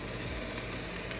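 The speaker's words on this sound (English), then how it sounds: "just hold it in the oil and just see if it sizzles" A piece of onion sizzles quietly in hot olive oil, a soft, even crackling hiss that runs steadily throughout.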